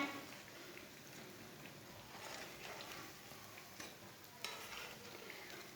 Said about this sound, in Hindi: ये वाली साइड से भी टिक्की हमारी फ्राई हो चुकी हैं।